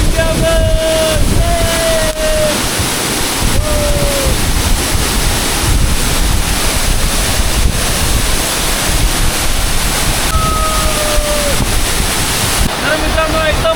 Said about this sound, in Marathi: welcome to biggest waterfall in jungle